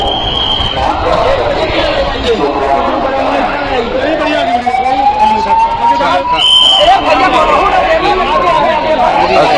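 Ambulance siren wailing at a stampede site during the Maha Kumbh in Prayagraj, a rising and falling tone heard amid a dense crowd with loud talk and chatter throughout.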